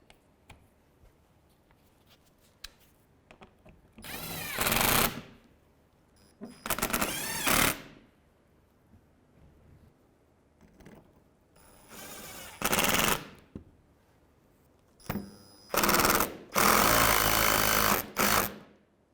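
Impact tool driving a 10 mm bolt while replacing the washer reservoir on a 2015-2016 Hyundai Sonata, several loud rapid hammering bursts, the last ones longest, separated by quiet pauses.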